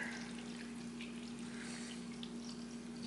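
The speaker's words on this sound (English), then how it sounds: "What happens if I take some of this water and then I pour the water in there?" A faint, steady trickle of water pours into a container packed with rocks, a quiet continuous flow over a low hum, with no talk.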